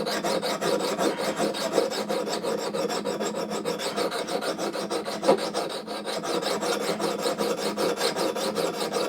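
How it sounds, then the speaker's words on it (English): A diamond sharpening plate grinds along the edge of a small camp axe in steady, rhythmic rasping strokes. The scraping is close and repeats evenly, with no talking. "Now if you have diamond sharpening plates, I'll just grab one. You can actually use them for this as well."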